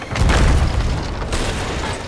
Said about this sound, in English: Nice, we hit their keg.